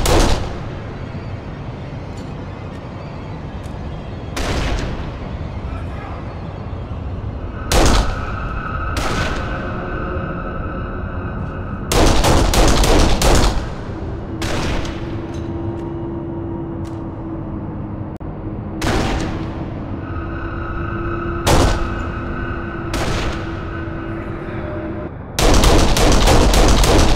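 Sniper gunfire in the video game Kane and Lynch, loud sharp shots repeating at irregular intervals, some in quick clusters, with ringing tails and a steady background hum.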